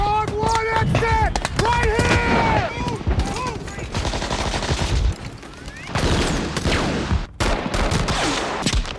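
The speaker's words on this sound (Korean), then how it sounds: "결국 그는 압도적인 사격으로 반격의 활로를 열어줍니다." Dense WWII battlefield gunfire from Saving Private Ryan, with sustained automatic bursts and rifle shots ringing out loud and near, along with shouting voices and rumbling combat noise.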